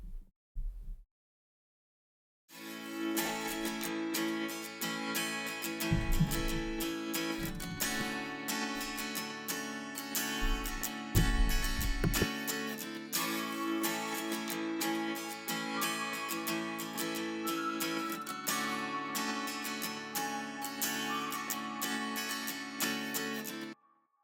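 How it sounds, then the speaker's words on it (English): A distorted guitar layer blends with the main acoustic guitar in a song's arrangement. It enters after a short silence and plays continuously and fairly loud, with deep low thumps underneath early on. "And then in context with the main acoustic guitar, it sounds like this."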